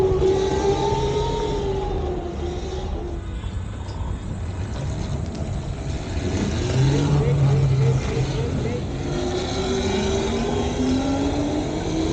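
Go-karts on an indoor mall track in Gurgaon whine past with rising and falling engine drones, close and fairly loud, while someone talks over the noise throughout.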